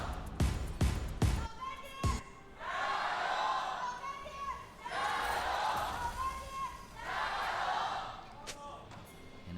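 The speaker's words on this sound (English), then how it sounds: "The crowd begins to yell" Esports crowd at an LPL match between BLG and LGD, swelling into three waves of loud yelling and cheering, with sharp thumps and a commentator's voice over the top.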